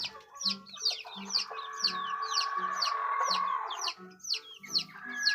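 Young chicks clucking and peeping inside a coop, with repeated short chirping calls and low clucks in a steady rhythm, close by, over a sustained background hum.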